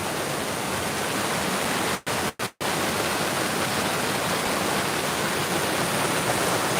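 Rushing rapids of a woodland stream at night, a loud, steady broadband roar heard up close and continuous, broken only by a few abrupt split-second dropouts.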